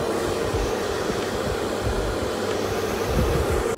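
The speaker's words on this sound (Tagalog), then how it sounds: "So yun, mag-blower ako ng buhok." A hair dryer blows on someone's hair, a steady, close, continuous whoosh of broadband air noise with a low rumble underneath, holding level throughout.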